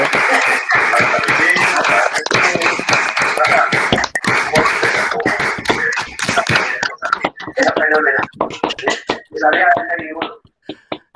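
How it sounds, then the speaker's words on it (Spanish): An audience at a history lecture applauds the speaker, loud close clapping that starts dense and thins into scattered individual claps toward the end, with voices talking over it. "un aplauso a nuestro ponente"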